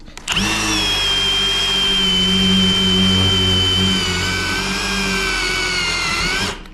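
A drill runs continuously for several seconds on steel garage door framing, a strained, high-pitched whine over a low grinding rumble, loud and close, bogging slightly as it works.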